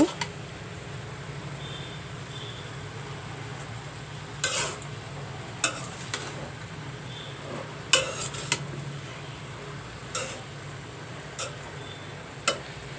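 Ash gourd frying in a pan gives a low, steady sizzle, and a utensil stirs and scrapes against the pan in occasional sharp clinks. There is no talking.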